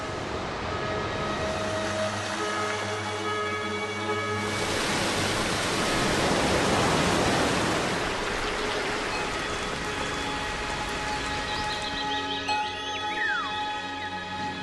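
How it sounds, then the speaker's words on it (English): Broad rushing roar of water from the waterfalls on Roraima, Venezuela, a steady dense wash that swells louder in the middle and eases toward the end, with no voices. "This is the origin of the rain, which rushes down in countless waterfalls."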